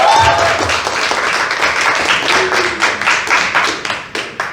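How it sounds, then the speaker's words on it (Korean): Audience applause at a press training session, a dense burst of many hands clapping steadily and loudly through the whole stretch, with a voice briefly over the start. "네, 박수."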